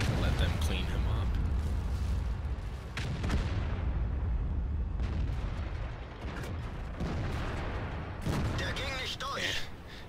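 A heavy Maus tank cannon fires in World of Tanks on the Kharkov map, with booming, rumbling blasts and broadband battle noise over about ten seconds, with a voice speaking over it.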